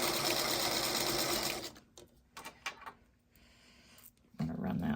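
A sewing machine stitching a fabric quilt block runs loudly and steadily for about a second and a half, stops, then a few light clicks and handling noises follow before the motor starts again.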